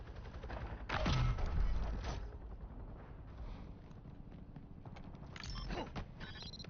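Minigun fire in a video game, a dense burst of rapid shots loudest early on, then fading into softer mechanical clatter with a brief renewed flurry near the end.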